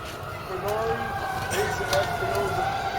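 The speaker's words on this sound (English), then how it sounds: "So we're just going to listen for a minute as the sirens go off." Wailing sirens rise and fall in the distance over a constant background hum, with faint speech underneath.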